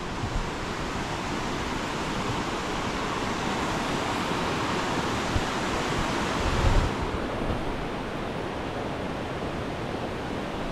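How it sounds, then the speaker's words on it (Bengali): Waterfall water rushing beneath a scenic bridge in Sikkim, a loud, steady broadband roar of flowing water that stays continuous and close throughout, with no voices. "হয়তো তোমরা সাউন্ড শুনতে পাবে ঝর্ণার জলের।"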